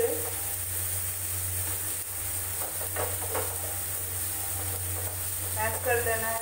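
Tomatoes mashed and fried in a pan for raw banana bharta make a continuous close sizzle with scraping stirs, while a voice comes in briefly near the middle and end.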